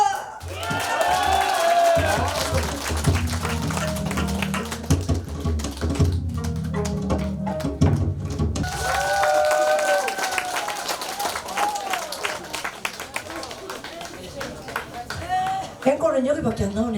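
Festival crowd at an outdoor pumba (품바) performance with drums and janggu claps and cheers over band music, with whistling and an announcer's voice heard throughout, fairly loud and sustained.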